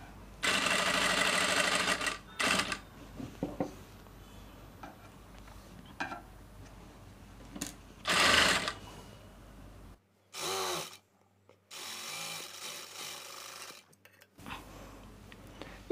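A sewing machine stitches the hem on a square-neck blouse in short bursts of rapid whirring, separated by pauses and small handling clicks, close and fairly faint.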